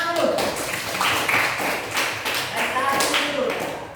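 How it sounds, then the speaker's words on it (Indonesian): A classroom group claps after a student presentation, scattered uneven hand claps and taps mixed with voices chatting over them. "Ya, tepuk tangan dulu"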